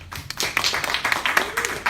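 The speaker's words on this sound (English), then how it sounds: "So, to finish off, let's give a round of applause." An audience at a university event on Indigenous peoples gives brief, scattered applause: a short burst of separate hand claps, moderately close, with a faint murmur beneath.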